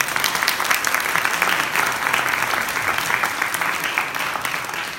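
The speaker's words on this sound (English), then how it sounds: "Give them both a round of applause, please." Audience at a township mayoral forum applauds steadily for several seconds, a dense, even wash of clapping from a sizable indoor crowd with no voices over it.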